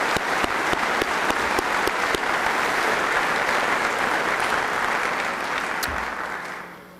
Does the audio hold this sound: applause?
yes